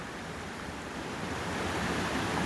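Two brooks flow at Dunn's Falls, Maine, a steady broadband rush of moving water, even and continuous, gradually swelling slightly, with no voices.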